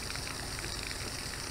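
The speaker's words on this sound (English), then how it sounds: "See the waterfall?" A garden waterfall gives off a steady, even rush of flowing water, fairly faint and continuous throughout, with no voices.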